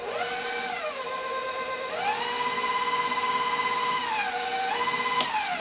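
A KitchenAid stand mixer whirs steadily through a dessert batter, its motor pitch dipping and rising as the speed shifts, loud and close with no talking.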